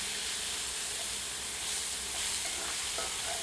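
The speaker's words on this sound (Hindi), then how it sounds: "इसे अन्य सामग्री में मिलाकर 1 से 2 मिनट मीडियम हीट पर फ्राई करते हैं।" Masala chicken with ground onion fries over medium heat in a pan, giving a steady loud sizzle and hiss with faint scraping of stirring throughout, no voices.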